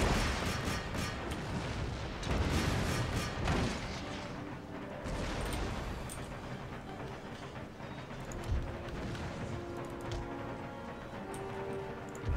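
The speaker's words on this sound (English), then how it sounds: "These cannons is just devastating." Cannon fire in the battle game Empire: Total War, with heavy booming artillery blasts rolling through the first few seconds, then a long, dense rumble of battle noise and scattered later impacts, all without voices.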